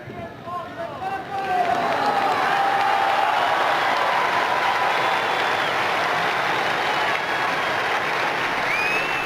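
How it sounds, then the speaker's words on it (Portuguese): Faithful gathered in St Peter's Square applauding at the close of the Pope's Wednesday general audience, a loud sustained wash of crowd clapping and cheering that swells quickly and holds steady. "um aplauso dos fiéis na Praça São Pedro."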